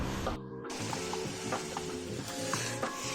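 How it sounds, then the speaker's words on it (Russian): Fish frying over a campfire outdoors gives a soft, continuous sizzle with faint crackles and light clinks, low in level and without speech. "костер горит, рыба жарится"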